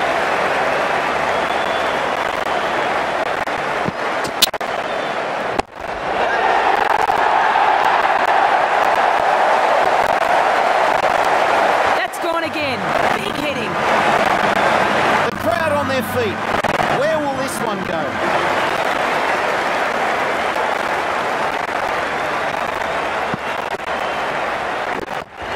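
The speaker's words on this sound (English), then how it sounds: "The crowd are loving this." A cricket crowd at an England versus Australia Ashes match applauding and cheering a six, a loud sustained roar of clapping and cheers with a commentator talking over it.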